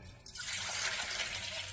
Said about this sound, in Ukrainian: наливаємо теплої води